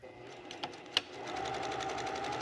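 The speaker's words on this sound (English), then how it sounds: "I'm just going to sew a seam here" Sewing machine stitching a seam on a dress, starting with a few clicks and then a fast steady mechanical whir close by.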